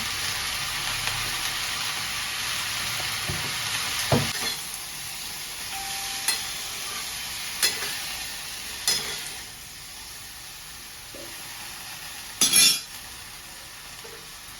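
Chana dal sizzles in a pan while it is stirred with turmeric and salt: a constant frying hiss broken by a few sharp clinks of a spoon against the pan, with no voices.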